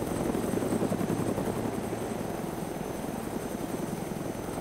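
Continuous rhythmic thudding of helicopter rotor blades with engine whine in the video game DayZ Origins, steady and fairly close throughout.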